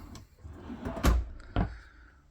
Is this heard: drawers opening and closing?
yes